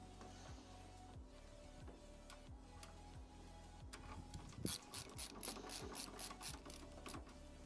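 Ratchet tightening bolts on a tray inside a PC case, rapid repeated clicking that grows busier and more metallic toward the end, close and quiet with no talking.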